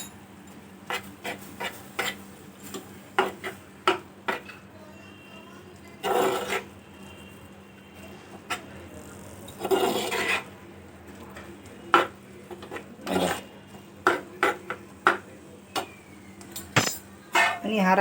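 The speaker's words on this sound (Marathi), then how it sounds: "मिक्स करून घेते परत" Crushed peanuts stirred into a dry fenugreek (methi) stir-fry in a pan, giving scattered close scrapes and clinks of a spoon against metal, with a few longer rubbing swishes and occasional quiet talk.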